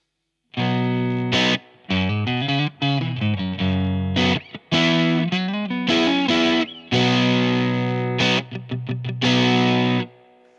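An electric guitar through a StewMac Hotcake overdrive pedal kit plays a busy riff of gritty, sustained notes and chords, loud and up close, ending on a held chord.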